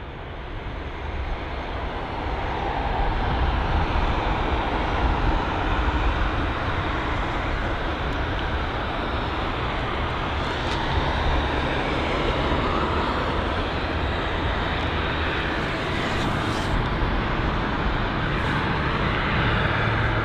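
An Air Canada Boeing 787 holds at London Heathrow, its jet engines giving a broad, continuous roar from some distance that stays steady and fairly loud throughout.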